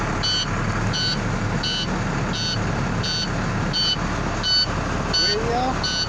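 A septic truck's reversing alarm sounds a steady, repeating series of evenly spaced electronic beeps close by over a low idling engine rumble, with a brief squeak near the end.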